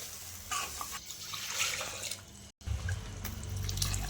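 Hot water is poured into the oil-mixed ragda for papdi chaat, a steady splashing stream close by with a brief break midway before it picks up again.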